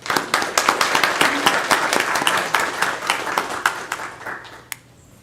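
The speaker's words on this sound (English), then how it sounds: "And let's give all those employees a round of applause." A room of attendees at a county commissioners' meeting gives a round of applause for county employees, a few dozen hands clapping briskly and close, then tapering off into quiet.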